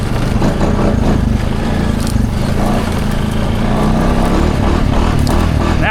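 An ATV engine drones continuously while riding across a property's cut field, a loud steady motor hum with slight shifts in pitch as it moves.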